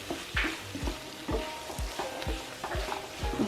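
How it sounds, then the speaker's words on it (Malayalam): A Kerala-style chicken stir fry with crushed cumin, coconut and curry leaves is stirred in a hot pan, a spoon scraping in regular strokes about twice a second over a steady sizzle, close and clear, no talking. "ആഡ് ചെയ്തിട്ട് നല്ലോണം ഒന്ന് മിക്സ് ചെയ്യാം."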